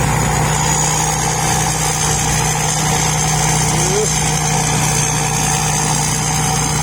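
A heavy diesel engine of a combine harvester idles steadily and loudly up close, a constant low rumble with a rattling hum that never changes.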